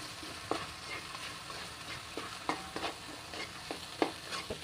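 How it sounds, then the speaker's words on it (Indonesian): Spoon stirring a blended spice paste with peanuts and tamarind water in a frying pan in a school catering kitchen, with irregular scraping knocks over a steady background sizzle and clatter. "Terus aduk."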